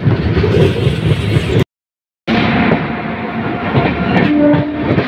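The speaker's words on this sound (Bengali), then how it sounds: "ভাই মালগাড়ির সঙ্গে ক্রসিং হচ্ছে।" A freight train passes the Padatik Express on the adjacent track, a loud, close rush of rolling wheels and rattling wagons with a brief dropout in the middle and a faint horn tone near the end.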